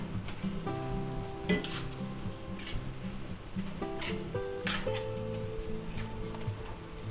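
Pre-cooked marinated beef for lo mein is stir-fried in a hot pan, giving a steady close sizzle broken by repeated scraping clatters of a utensil stirring the meat.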